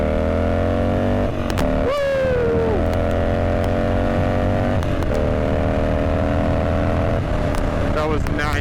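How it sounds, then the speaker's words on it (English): A Harley-Davidson Dyna with an 88 cubic inch V-twin engine pulls hard through the gears, its loud, throbbing exhaust note rising with brief dips at each shift, heard up close with wind noise. "I'll give you guys a little taste of what this 88 cubic inch V-twin engine can do."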